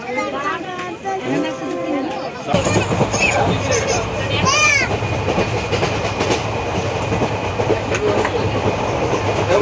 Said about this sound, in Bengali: এখন ট্রেন হচ্ছে কাটোয়া কাটোয়া স্টেশন দাঁড়িয়েছে